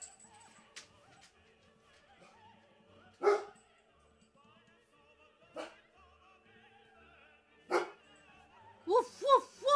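A dog barks in sharp, separate bursts spaced a few seconds apart, and a quicker cluster of yips comes at the end. Faint talking and background sounds run quietly beneath the barking.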